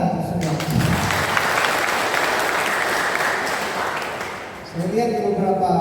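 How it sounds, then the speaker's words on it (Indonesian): Sustained applause from a crowd, steady clapping filling several seconds before fading, with a voice briefly heard near the end. "Tepuk tangan untuk semua."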